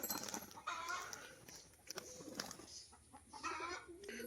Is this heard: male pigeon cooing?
yes